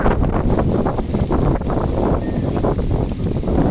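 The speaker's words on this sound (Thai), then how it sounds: "โอ้ลมแรงมากนะดู" Strong gusty wind during an approaching storm roars and buffets the microphone continuously, loud and close, with no voices.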